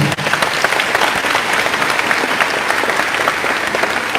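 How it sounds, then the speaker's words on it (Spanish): Audience applause for two church brothers at a Spanish-language Baptist church gathering: dense, steady clapping from many hands fills the room throughout, loud and close, with no voices over it. "Aplausos para los dos hermanos"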